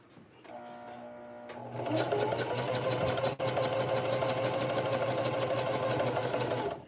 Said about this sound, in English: we can start to press the sewing needle.